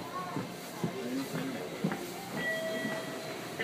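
A MARTA subway train at Lindbergh station in Atlanta hums and squeals steadily, with tonal whines from the rails and motors under a continuous low rumble.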